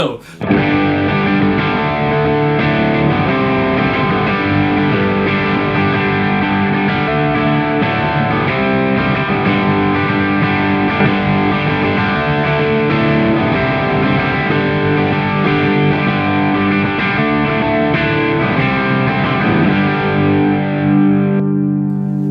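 An electric guitar runs through a Nordland or Nobels ODR overdrive pedal into an amp, giving a loud, continuous stream of driven, sustained chords and notes with no gaps. The tone is thick and saturated and plays alone for about twenty seconds.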